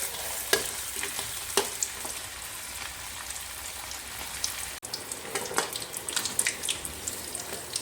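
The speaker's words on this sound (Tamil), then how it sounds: "இந்த ஸ்டேஜில் ஒவ்வொரு பீஸஸாக எடுத்து நல்லா சில்லிக்கு ஃப்ரை பண்ணுற மாதிரி டீப் ஃப்ரை பண்ணிடுங்க" Quail pieces deep fry in hot oil for a Kaadai Kondattam dish. A steady, fairly quiet sizzle and crackle carries scattered pops and clinks throughout.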